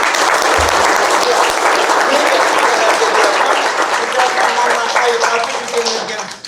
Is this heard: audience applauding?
yes